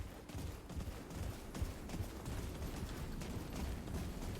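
Rapid gunfire from teammates in the co-op shooter Remnant 2, a dense, continuous rattle of shots and impacts running throughout at steady loudness, with no talk.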